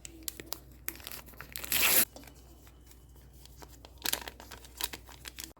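A packet of baking yeast for pastry dough is torn open in a kitchen: one sharp, loud rip surrounded by scattered crinkles and small clicks of handling, close up and with no talking.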